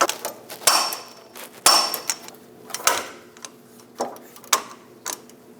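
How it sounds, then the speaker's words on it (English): A torque wrench clicks and metal tools knock sharply as idler arm bracket bolts are tightened on a Chevrolet Express 2500, a handful of close, crisp impacts spaced irregularly with no voices. "Torque the idler arm bracket bolts to 111 foot-pounds."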